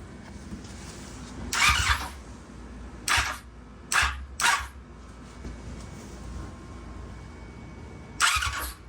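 A trashed Yamaha R6 motorcycle that won't start, its engine cranking over in several short bursts of whirring starter sound separated by quiet pauses, moderately close.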